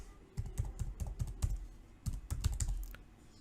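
Close computer keyboard typing as a domain name is entered, a quick burst of key clicks, a brief pause, then another fast run of keystrokes, fairly loud with no speech.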